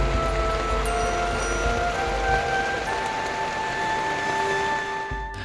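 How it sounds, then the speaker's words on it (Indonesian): Rain patters steadily on a taut tent flysheet on Gunung Kembang, Central Java, a dense close-up hiss of drops with a faint tonal hum behind it, then tapers off. "Hujan masih mengguyur hingga malam datang, menyisakan suara rintik yang menghantam flysheet."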